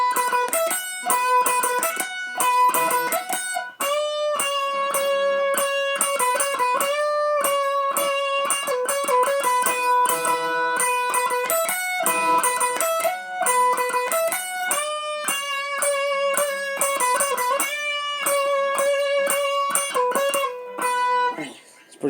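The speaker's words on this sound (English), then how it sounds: "now there's an extra lead line added on top of it, which sounds like this." An electric guitar plays a bright, repeating lead line of a few notes over a strummed chord part, fast steady picking with no talking.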